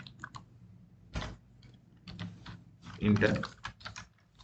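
Keystrokes on a computer keyboard while entering Python code, a loose run of soft clicks with a louder cluster near the end, under a man's quiet speech.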